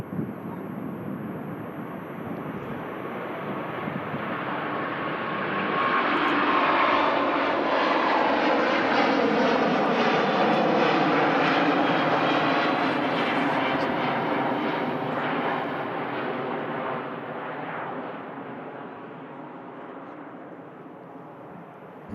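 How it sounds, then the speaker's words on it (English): A long-haul jet airliner takes off from Manchester Airport, rotating early and climbing steeply; its loud engine roar swells to a peak midway, then slowly fades as it climbs away, with no voices over it. "Mega departure there. Nice early rotation, actually, considering how far she's going. Look at that climb."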